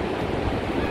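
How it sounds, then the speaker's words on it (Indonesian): Surf rolls onto Parangtritis beach on the south coast of Yogyakarta, a loud, close, continuous wash of breaking waves mixed with heavy wind buffeting the microphone. "saya sekarang lagi ada di salah satu pantai selatan yang berada di daerah istimewa Yogyakarta"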